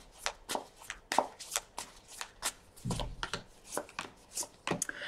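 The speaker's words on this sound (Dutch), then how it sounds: "Dan de kaarten schudden om te kijken wat deze week voor de Waterman gaat brengen." Tarot cards are shuffled by hand in a run of quick, crisp riffles and slaps, about a dozen distinct bursts over a few seconds, close and fairly quiet, with no one speaking.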